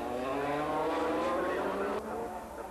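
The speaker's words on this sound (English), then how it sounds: "Into York again, and with Dunlop's right hand working overtime, he's still got the edge on Fogarty." Superbikes race past at the North West 200 road race, a loud, continuous engine roar with rising and falling pitch for nearly three seconds, fading slightly toward the end.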